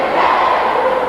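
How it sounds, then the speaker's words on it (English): A loud, sustained roar of cheering rises from the crowd at a 1988 high school girls' volleyball match between North Quincy and Quincy, a dense wash of voices with no clear breaks. "Crowd getting into this match."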